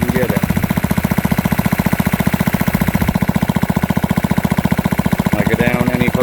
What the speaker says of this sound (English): it sounds like it's running at a lower RPM than it did the last time I tried it